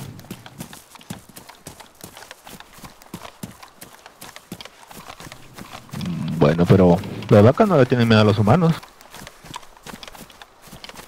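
Quick hoofbeats of a cow running patter through the DayZ game world, a fast steady clatter throughout, while someone speaks Spanish over the middle stretch.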